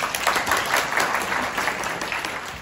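Audience at an economics conference applauds, a dense, steady burst of many hands clapping up close, filling the whole stretch without a voice over it.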